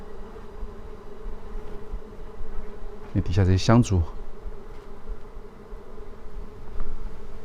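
Bees nesting in an abandoned temple hum in a dense, continuous buzz throughout, and a voice speaks briefly over it midway.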